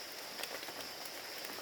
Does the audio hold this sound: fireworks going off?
no